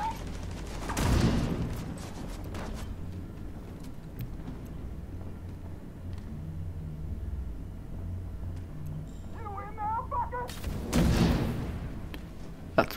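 Two loud, close explosive bursts from a grenade in a video game, one early and one near the end, each with a rumbling tail, over faint background game noise and brief electronic chirps.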